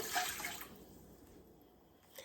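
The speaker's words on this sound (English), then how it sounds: "I'm going to add 1 cup of water." A cup of water is poured into a pot over pork for southern pulled pork, a short splashy gush at the start that quickly tapers to a faint trickle and quiet.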